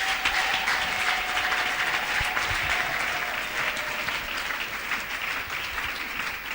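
A church congregation applauds together in a steady, dense burst of clapping that holds fairly even throughout, with a faint sustained tone running beneath it early on.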